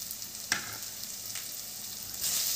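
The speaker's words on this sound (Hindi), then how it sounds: "अभी इनको अच्छे से इसके अंदर एकदम भूनेंगे बढ़िया।" Coriander powder and garam masala fry in hot oil, a soft continuous sizzle with a couple of sharp stirring clicks and a brief louder hiss near the end.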